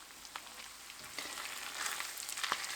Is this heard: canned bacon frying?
yes